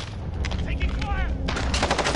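Rapid gunfire from a Call of Duty match, sharp bursts of shots packed close together across the whole stretch, with a brief tonal whine in the middle and a heavier volley near the end.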